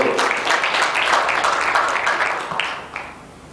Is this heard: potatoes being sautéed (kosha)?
no